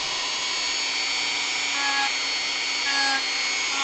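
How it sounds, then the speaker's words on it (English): A Dremel rotary tool carves detail into a Final Fantasy V model, giving a steady high-pitched whine with slight shifts in pitch as the bit digs in, close up and alone. "So I'm digging down a little deeper with the Dremel here facing different directions"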